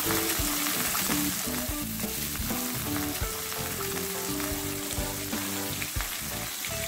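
Onion frying in oil with mustard seeds and garlic for a chickpea kuzhambu, a steady close sizzle with crackling pops throughout, music playing underneath and no talk.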